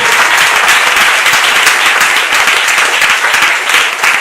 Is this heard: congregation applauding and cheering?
yes